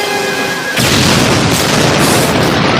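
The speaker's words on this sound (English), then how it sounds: "He plants several bombs across the country and they explode." Animated cartoon bomb explosions detonating across a country, a sudden loud booming blast that erupts after a brief tonal lead-in and rumbles on continuously with heavy crackling, no talk over it.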